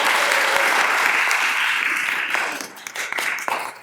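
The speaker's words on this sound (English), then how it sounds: "So how about a round of applause for him for that" Steady applause from an audience at a city council meeting honoring a Marine Corps veteran, dense clapping that holds for over two seconds and then thins into scattered claps.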